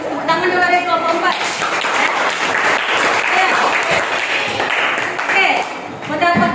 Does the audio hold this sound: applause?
yes